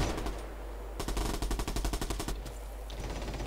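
Rapid automatic gunfire in the online shooter Bullet Run, loud close bursts of rattling shots over steady game background noise.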